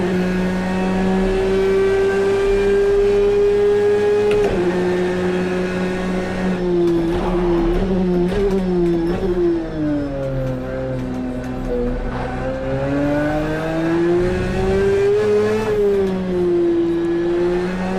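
Loud, close 2017 Porsche 911 RSR engine in Project CARS 2 holding a strong steady howl, with repeated upshifts, downshifts and rising and falling revs through a full lap.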